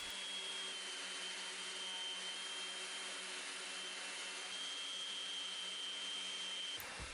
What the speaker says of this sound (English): I used my sander and a 100 grit sandpaper.